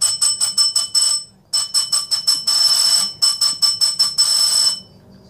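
An electric bell rings loudly in repeated rapid bursts with brief pauses between them, heard alone without any talking.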